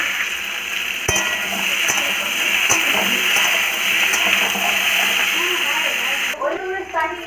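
Vegetables frying in a pan give a loud continuous hiss with occasional spatula knocks and scrapes, close up, ending with a brief burst of talking.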